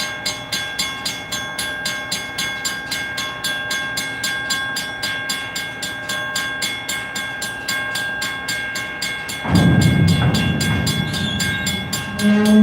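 An Escanaba & Lake Superior Railroad freight train passes at night with a steady, rhythmic clickety-clack of wheels over rail joints, growing louder and rumbling heavier near the end as the cars roll close by. No one speaks.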